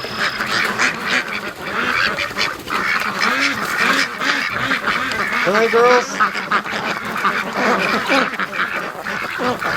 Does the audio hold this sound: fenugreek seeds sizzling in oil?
no